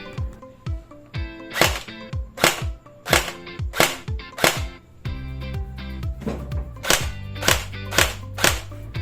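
A TG G36C airsoft gun powered by an 11.1 volt battery fires a series of sharp, loud single shots at a fairly even pace, close up, with a mechanical whir between some shots and no talk.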